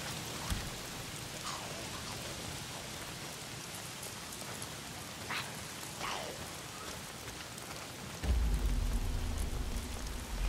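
Steady rain pours in Days Gone, a constant broadband hiss with scattered drop patters and a heavier low rumble surging in near the end.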